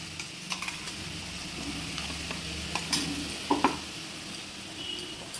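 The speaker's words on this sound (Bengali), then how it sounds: "এই তেলেই আস্তে আস্তে মাছটা আরেকটু ভাজা হবে সঙ্গে পেঁয়াজটাও ভাজা ভাজা হয়ে যাবে" Fish sizzles steadily in hot oil alongside onion and dried chili, a dense crackling hiss with scattered pops and a brief louder spatter near the end, no voices.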